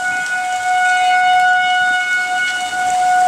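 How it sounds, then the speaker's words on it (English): A tornado warning siren wails steadily, a sustained loud two-tone drone holding pitch throughout with no voices. "siren, the tornado siren"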